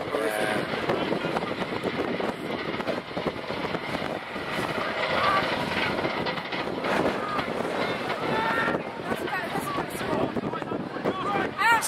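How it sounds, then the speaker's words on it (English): Steady wind buffets the microphone outdoors at an amateur football match between Seaford and Eastbourne B sides, a continuous broadband roar running the whole time, loud and near, with faint voices of people talking underneath. "It's the wind."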